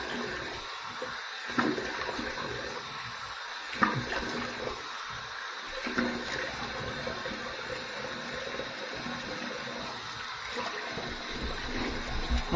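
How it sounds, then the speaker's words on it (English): Warm water runs from a tap in a steady broadband wash as a face is rinsed after a safety-razor shave with a Rockwell T2, with brief splashes and dips as hands move through the stream. "Here's my warm water rinse to get rid of all the slickness."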